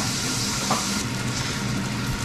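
Oil hissing in a frying pan, a constant broadband sizzle held steady and close with a slight swell midway, no voices.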